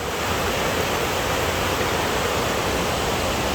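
A waterfall in the Arunachal forest roars as a steady, dense wash of falling water, constant and close, with no voices.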